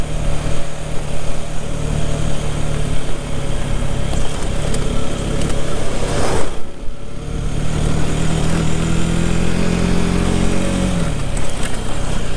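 A Rieju Century motorcycle rides along an off-road dirt trail, its engine droning steadily and loudly throughout, with a brief dip midway and a rising tone near the end.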